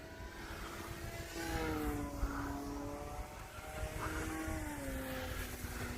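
P-51 Mustang propeller plane climbing after takeoff, a continuous droning engine tone that wavers and shifts in pitch, heard steadily throughout without talk.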